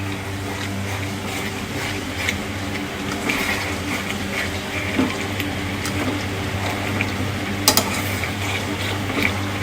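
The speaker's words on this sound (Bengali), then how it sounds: "তো আমার মাংস কষানো স্টার্ট হচ্ছে।" Marinated meat being stirred and sautéed in a pan with a ladle, with scattered scraping and clinking strokes over a constant low sizzle and hum, fairly close, with a couple of sharper metallic knocks near the end.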